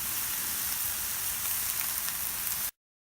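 Korean BBQ pork stir fry sizzling on a 36-inch Blackstone griddle, a steady close hiss and crackle that stops abruptly.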